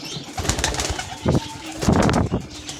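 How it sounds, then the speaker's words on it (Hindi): A pair of mynah-type pigeons in a farm cage give low, throaty coos in short bursts against a steady background hiss. "ये मैनाजात का पेयर बैठा हुआ है"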